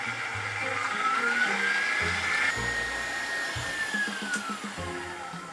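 An electric hand mixer runs on high, beating eggs until foamy for a brunch dish, a steady close whirring motor that holds throughout with a slowly sliding pitch and no pauses.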